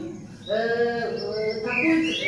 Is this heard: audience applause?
no